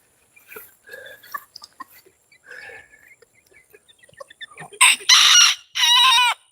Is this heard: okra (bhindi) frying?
no